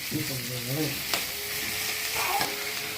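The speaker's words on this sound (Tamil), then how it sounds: "நான் இதில் கொஞ்சம் வெங்காயம் தக்காளி சேர்த்து வதைக்கிறேன்" Onion and tomato sizzle with mutton in a pan, a close, steady frying crackle with a short voice-like tone early on and occasional stirring knocks.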